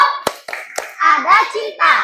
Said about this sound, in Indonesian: Tepuk semangat. Semangat. Tepuk sukses.